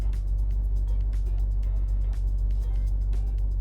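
A C3 Corvette drones steadily with a heavy low-frequency rumble and faint clicks above, heard from close by as a constant engine noise without talking.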